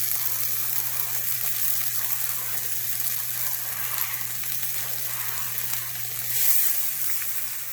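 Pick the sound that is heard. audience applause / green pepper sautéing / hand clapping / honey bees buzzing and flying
green pepper sautéing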